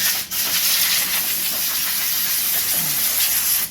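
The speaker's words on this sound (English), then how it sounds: "I'm gonna blow off the tank with some compressed air" Compressed air blasts steadily across a fuel tank during a fuel gauge replacement, a loud, continuous hiss lasting a few seconds after a brief opening burst, with no talking.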